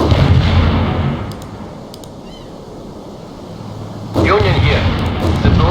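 An artillery barrage in World in Conflict, a loud rumbling roar that fades to a distant low rumble and then swells back with heavy booms, under radio-style game voices.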